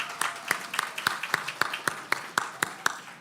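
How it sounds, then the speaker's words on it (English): Sparse, steady clapping from a small group at a conference awards presentation for third place, crisp individual claps in a loose rhythm lasting a few seconds with no talk over it. "Give them a round of applause."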